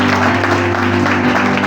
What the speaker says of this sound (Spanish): Denle un aplauso al Señor en esta mañana